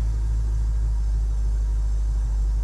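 A supercharged Toyota/Lexus engine idles at around 1000 RPM, a steady, deep, even rumble held close and unchanging with no revving or voices.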